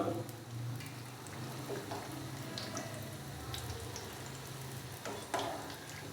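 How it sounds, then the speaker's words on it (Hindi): Egg spring rolls frying in oil over a medium-low flame, a steady soft sizzle with light crackles and a few brief clinks, close and alone with no talking. "मैंने इनको मीडियम से लो फ्लेम पे 5 से 6 मिनट के लिए बहुत ही अच्छे से फ्राई कर लिया है।"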